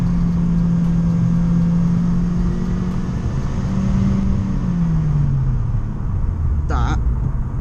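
Vauxhall Corsa fitted with a Cobra Sport exhaust drones loudly at steady revs and then eases off with a falling engine note, heard from inside the car while a voice talks over it.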